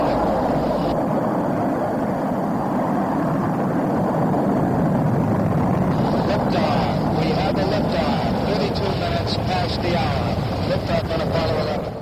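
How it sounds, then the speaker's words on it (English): The Apollo 11 rocket launch of July 1969 roars with its engines running, a dense, sustained rumble filling the whole stretch while a narrator speaks over it. "On July 16, 1969, three American astronauts lifted off in Apollo 11"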